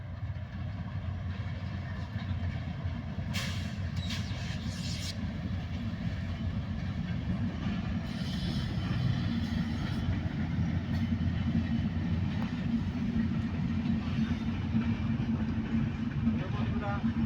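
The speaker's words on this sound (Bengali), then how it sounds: "ট্রেনের শব্দ তো বন্ধুরা আপনারা শুনতেই পাচ্ছেন।" An intercity train passes along a railway line nearby, giving a loud, steady rolling rumble that lasts the whole stretch, with voices audible now and then beneath it.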